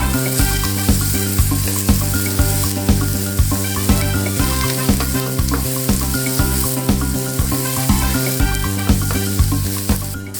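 Sausages fry in a pan, probably aboard a boat, with a loud, continuous close-up sizzle and crackle. A rhythmic thumping beat runs steadily underneath, and nobody speaks.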